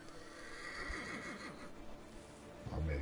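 A horse in the video game The Thaumaturge whinnies loudly with a wavering, descending call, followed by a low snort, over a steady game-like background hum.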